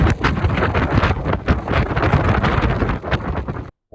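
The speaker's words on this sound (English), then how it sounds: "it's windy as all get out, and we are getting blown away" Strong wind battering the microphone at a mountain campsite: loud, continuous rumbling gusts with flapping buffets, cutting out abruptly near the end.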